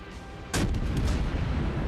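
A warship's guns fire a single shot in a naval video game, a sudden heavy boom that rolls into a sustained rumbling tail, close and loud with no voices.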